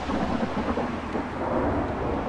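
A thunderstorm rolls over a gas station in Gas Station Simulator, a continuous low rumble of thunder mixed with rain, steady and fairly loud with no voices.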